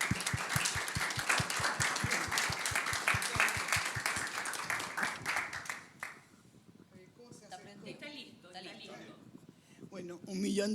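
An audience gives a loud round of clapping to welcome a journalist at a women-and-media lecture. The applause fades out after about five seconds, and a single voice then starts speaking into the quieter room.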